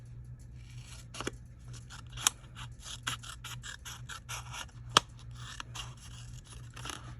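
Scissors snip through retired Stampin' Up! paper pages in a steady string of close, crisp cuts, with a couple of sharper snaps along the way and no talking.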